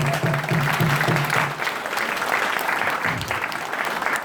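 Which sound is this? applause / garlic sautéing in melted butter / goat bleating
applause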